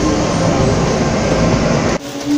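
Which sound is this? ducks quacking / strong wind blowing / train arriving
train arriving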